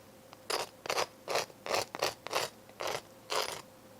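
Eight short, dry scraping strokes in a steady rhythm, gritty and crunchy, close up with quiet gaps between them.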